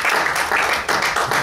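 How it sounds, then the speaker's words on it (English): A church congregation claps during a worship service, dense applause sustained through a short stretch with slight dips in intensity. "Give these guys a round of applause."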